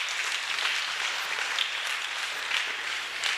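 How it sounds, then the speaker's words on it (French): A church congregation at a Sunday service applauds steadily. The dense, even clapping fills the room at a moderate level throughout, with no voice over it. "On acclame, on acclame."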